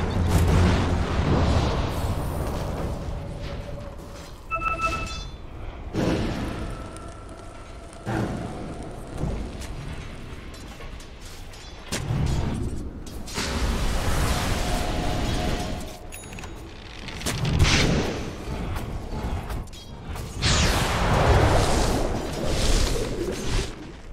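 Dota 2 match with a tower under attack: dense battle effects, repeated booms and blasts rising and falling over a steady rumble, with no voices.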